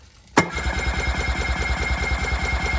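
The engine of a 2001 Craig Cat boat, parked on wood chips and mud in a yard, catches with a sudden loud burst, then settles into a fast, even, rhythmic putter close by.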